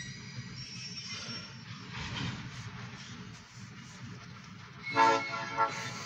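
A short OC&T freight train of rusty grain hopper cars rumbles past steadily, with wheel and car noise and a brief horn-like tone near the end.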